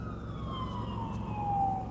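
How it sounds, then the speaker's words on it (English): An ambulance siren passes nearby, a steady falling wail heard from the street under low traffic rumble, with no talk. "and another ambulance."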